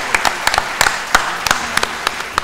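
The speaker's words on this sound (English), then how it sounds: "Give them a big round of applause" Quiz show audience clapping for a school team, a sparse, uneven patter of individual claps rather than a full ovation, fairly close and short.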